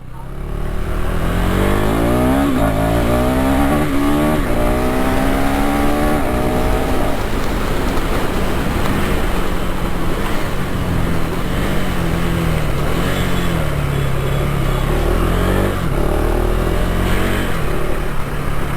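A motorcycle accelerates hard through several rapid quick-shifter gear changes, its engine pitch climbing and dropping repeatedly with steady wind noise.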